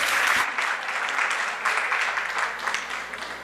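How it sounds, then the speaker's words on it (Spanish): A room of people applauds at a nutrition talk on diabetes and obesity, a steady close wash of clapping lasting a few seconds without speech. "Muy bien, muchas gracias y un fuerte aplauso."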